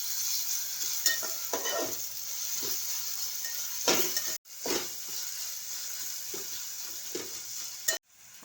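Tomatoes, bay leaf and ginger-garlic paste sautéing in a pan for a Pune-style chicken dalcha, a constant close hiss of frying with occasional stirring scrapes and two sharp momentary dropouts.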